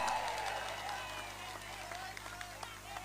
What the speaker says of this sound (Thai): ขอเสียงตบมือเป็นกำลังใจให้กับแพทองทานชินวัตรครับ